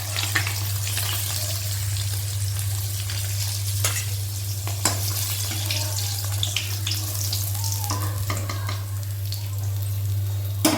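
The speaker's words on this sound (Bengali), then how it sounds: "এদিকে কিন্তু মাছটা একদিকটা সুন্দরভাবে ভাজা হয়ে গেছে।" Pomfret fish frying in a pan, a steady close sizzle with crackling oil and occasional scrapes and clinks, over a constant low hum, with no talking.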